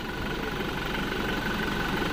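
A Toyota Innova Crysta ZX's 2.4 litre diesel engine idles with a steady, slightly noisy low rumble and faint knock, close and continuous for the whole moment, with no talking.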